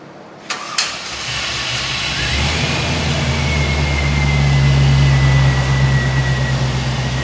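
Car engine after fuel injector cleaning: a quick crank catches and fires up, then settles into a steady, smooth idle that rises slightly and holds, loud and close with no talk.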